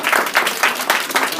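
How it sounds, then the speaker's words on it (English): Warm applause from an audience at a tenant recognition event, a short burst of clapping that swells and dips in waves, fairly close and filling the room. "Let's give a round of warm applause."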